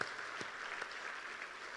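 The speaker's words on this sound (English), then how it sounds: "Please give them another great big round of applause." An audience at a type 1 diabetes charity fundraiser gala applauds, a steady, diffuse wash of clapping heard from within the room, holding even for the whole stretch.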